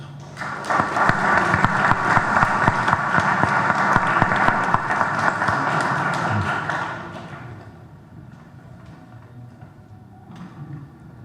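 A crowd claps steadily and loudly for several seconds after a speaker on bulls in Peruvian literature is introduced, then the applause dies away into quiet room noise with a few faint sounds.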